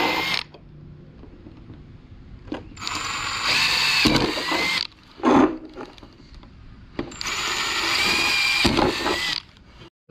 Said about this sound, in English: I'll start it with like a drill bit or whatever and drill through the edges